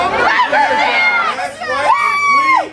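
A large outdoor crowd at a lumberjack show cheers and shouts, with children's high voices whooping and screaming loudly in overlapping bursts that rise again toward the end.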